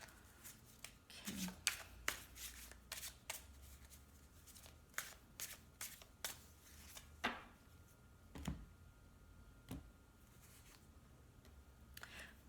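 Oracle cards being shuffled during a love reading, a series of quick papery riffles and flicks coming in uneven bursts, close and fairly soft, with no talking over them.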